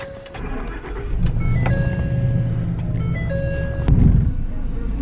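A pickup truck setting off on a test drive on a farm, its engine running and rising as it pulls away, with a steady tonal hum and a few knocks over the motor.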